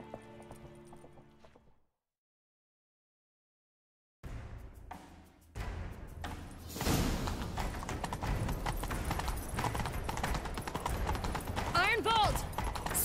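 In The Witcher 3: Wild Hunt, after a short musical bit and a silent gap, galloping horse hooves build into a fast, continuous pounding, with a brief whinny late on.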